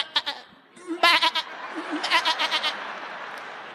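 A voice imitates a sheep in a comedy stage show. He gives a few short bursts and then a quavering run of bleats, with the audience reacting around him.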